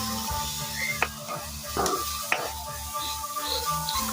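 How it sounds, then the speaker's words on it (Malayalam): Vegetables frying in a pan for egg upma, stirred with a spoon: steady soft sizzle with a few sharp scraping clicks of the utensil against the pan, close and moderately loud. "എല്ലാം നല്ലതുപോലെ ഒന്ന് വാടി വെന്ത് വരുന്നിടം വരെ ഒന്ന് ഇളക്കി കൊടുക്കുക"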